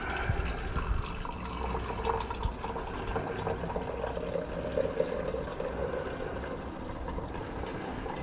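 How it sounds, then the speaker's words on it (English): Iron sulfate liquid is poured off in a gold recovery process, a soft continuous trickle and splash of liquid that runs steadily and fairly quietly throughout, with no talk. "We'll pour off the iron sulfate."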